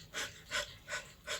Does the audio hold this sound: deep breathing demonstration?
yes